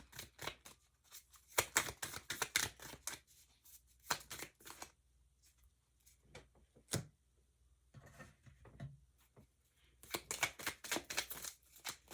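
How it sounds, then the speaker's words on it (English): A tarot card deck is shuffled in several quick riffling bursts separated by quiet pauses, close and crisp. "I was hearing no as I was shuffling that deck."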